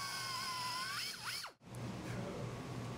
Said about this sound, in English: Drill another number 40 hole.